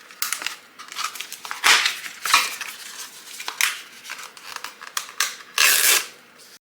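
Heat transfer vinyl being torn away from its backing around cut letters, a series of sharp crackling rips and crinkles that come in bursts, close and fairly loud, with short pauses between pulls.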